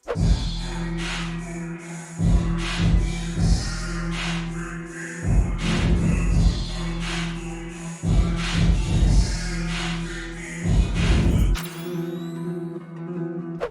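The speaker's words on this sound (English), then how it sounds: "I also added a reverb effect" A sampled hip-hop beat, drenched in a bathroom-like reverb, with booming bass, steady drum hits and a looping melody, loud and continuous before cutting off near the end.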